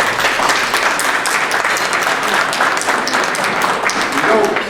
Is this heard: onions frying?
no